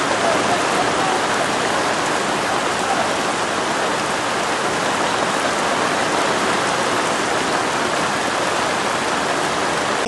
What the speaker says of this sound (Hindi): रुक रुक कर बारिश हो रही है, जिसकी वजह से टेंट में रहने वाले लोग परेशान हैं।